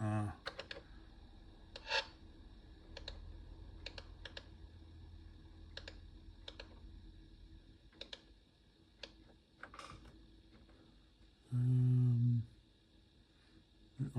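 Cursor keys on a Pravetz 8D computer are tapped in scattered single clicks and short bursts, close and light, with a brief low hum partway through and a voice talking faintly at times.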